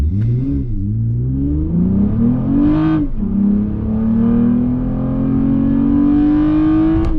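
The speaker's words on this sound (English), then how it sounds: "87 octane tune, 0 to 60 test." A Toyota Camry with an 87-octane D3 Performance tune and traction control on accelerates hard from a standstill with three adults aboard. The engine roars loud and close, rising through one gear, dipping at a shift and climbing again steadily.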